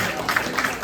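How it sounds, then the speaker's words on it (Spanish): Brief burst of applause from a church congregation, a dense wash of clapping across the room that stays at a steady level. "Den un aplauso al Señor"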